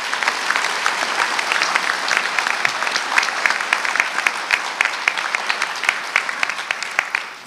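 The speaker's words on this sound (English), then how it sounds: "Let's give them another round of applause." A large audience at a Doctor of Physical Therapy Class of 2025 hooding and pinning ceremony claps in a long, dense, even round of applause that carries on for several seconds before starting to thin.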